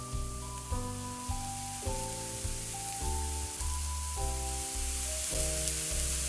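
Mushrooms and garlic sizzle in a pan, a soft, steady crackle and hiss kept low beneath melodic background music throughout.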